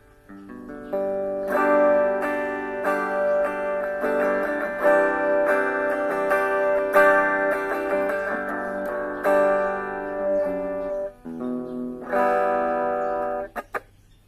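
Clean electric guitar tone from a Korg AX1500G effects unit, with bright picked notes and chords ringing in a steady phrase that pauses briefly before a final strummed chord fades out.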